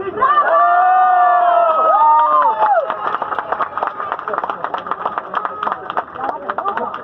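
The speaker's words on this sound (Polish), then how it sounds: "brawa dla nas!" A crowd at a street march for freedom in Poland breaks into clapping and cheering after a shouted chant. Sustained voices ring out first, then give way to scattered, uneven applause and shouts that keep going.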